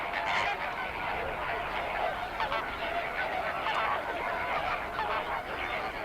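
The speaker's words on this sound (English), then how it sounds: "The lake is home to one of the most iconic bird species, the greater flamingo." Greater flamingos calling at a mineral-rich volcanic lake in a desert landscape, a dense, continuous honking chorus of many birds that carries steadily without a break, with no talk over it.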